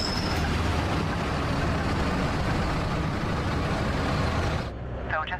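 A truck rumbling along in the game Star Trucker, a dense continuous engine roar and road noise that drops away abruptly near the end.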